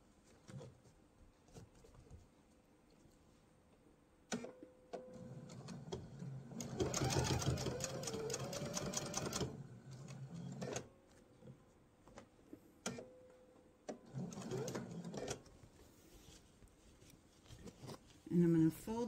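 A sewing machine stitches a mesh tote strip in short runs, a rapid mechanical whir in two main bursts with quiet pauses, clicks and handling noises in between.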